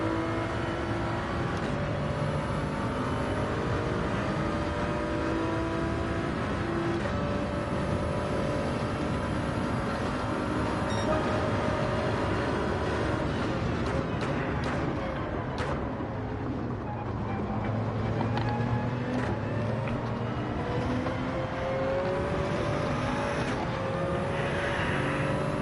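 Race car engine in Gran Turismo 7 during Manufacturer Cup practice, loud and sustained, held under throttle with a steady whining drone and gentle shifts in pitch over the full stretch, with no voices.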